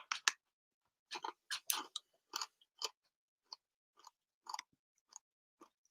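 Someone chews a crunchy snack close to the microphone, with sharp, crisp crunches in irregular bursts that are loud early on and then thin into softer, spaced bites over near silence.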